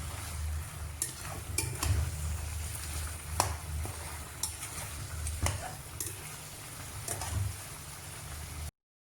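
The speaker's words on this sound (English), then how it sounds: "Alright, stir and mix it nicely." Mutton with dried red chili powder being stirred in a pan, a constant low sizzle overlaid with repeated sharp scrapes and taps of the utensil, close and without speech, ending in abrupt silence.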